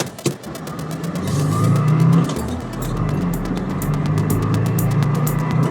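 A Subaru pulls away after warming up in below-freezing cold, its engine a low steady drone that swells as it accelerates, then settles into a continuous rumble with road noise, close and fairly loud, with no talking.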